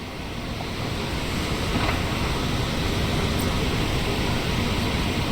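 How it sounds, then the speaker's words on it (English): Steady open-sea waves and rushing wind while sailing in the video game Sailwind, a continuous loud wash of surf with no pauses and no voices. "And we're in open sea, so we've got some nice waves."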